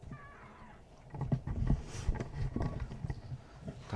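Kittens that have just been brought to a veterinary clinic meow, with a thin high cry at the start and then busier rustling and movement noises mixed through the rest.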